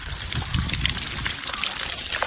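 Water spilling at Kumbwade waterfall near Amboli during low flow, a steady broadband rush and splash that continues evenly throughout, close and fairly loud.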